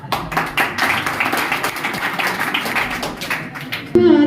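An audience at a live stage song performance claps in a steady, dense burst to welcome a song, and music starts right at the end.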